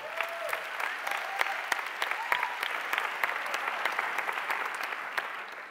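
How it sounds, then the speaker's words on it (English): Warm applause from a conference audience after a talk on food security, with dense, sustained clapping and a few sharper individual claps standing out. "Please give me a full applause to Victoria."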